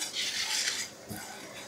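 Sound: stirring spices dry-roasting in a pan

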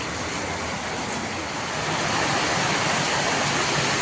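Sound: rain falling

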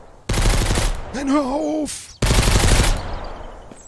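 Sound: gunfire from the video game Mist Survival

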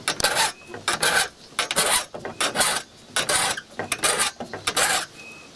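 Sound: sharpening saw teeth with a file

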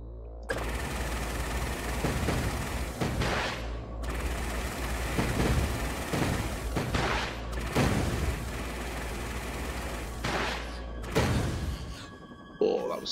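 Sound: shooting in a Kodu video game

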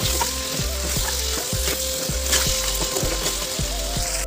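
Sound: dried meat frying in pan

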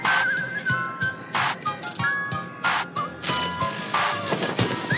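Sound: whistling in the Honkai: Star Rail Sparkle trailer

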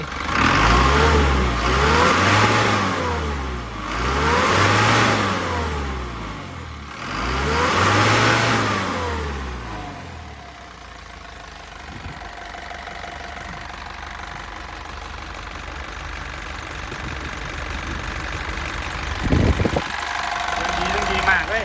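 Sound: Isuzu NPR 130 hp truck engine revving and idling

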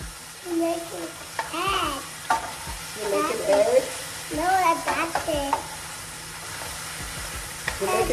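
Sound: sausage frying and being stirred in a pot

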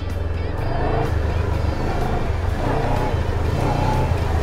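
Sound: motorcycle throttle opened and closed in rhythm

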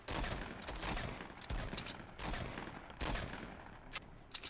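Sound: gunshots in Fortnite video game

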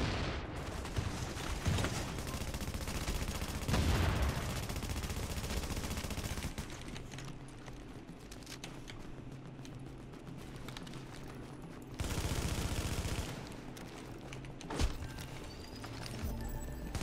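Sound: gunfire in the video game The Division

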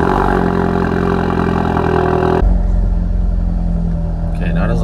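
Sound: Ford Focus RS exhaust first start

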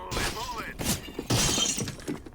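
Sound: glass shattering in a video game

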